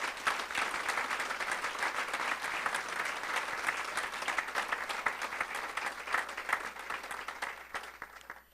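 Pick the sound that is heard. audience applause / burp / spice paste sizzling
audience applause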